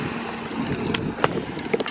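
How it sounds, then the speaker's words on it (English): Steady wind rushes and buffets the microphone outdoors, with a few faint clicks and rattles scattered through the noise. "it's kind of windy"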